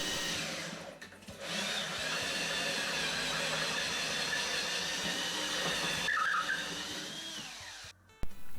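Power drill boring an 18 mm hole for a water line, a steady whining grind lasting several seconds, fairly close and continuous, ending with a few clattering knocks.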